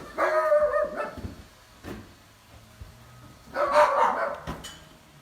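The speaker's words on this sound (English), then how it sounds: "Dogs are barking." Several dog barks in two bursts, a cluster at the start and another near the end, with a single sharp bark between, fairly close in a quiet room.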